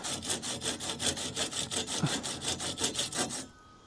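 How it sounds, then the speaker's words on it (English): A Japanese hand saw trims a wooden rafter end, about fifteen quick, even back-and-forth strokes rasping close and loud before stopping abruptly, with no talking. "I was just gonna give that a quick trim"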